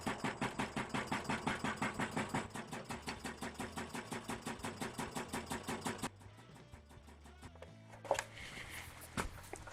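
A wood lathe turns a bowl blank slowly at about 150 RPM, thumping in a fast, even rhythm for about six seconds before the pulsing stops, leaving a quieter hum with a few sharp knocks.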